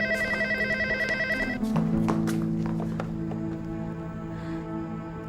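An old telephone ringing indoors, a loud repeated electronic trill that stops abruptly, followed by a lower sustained tone under a voice.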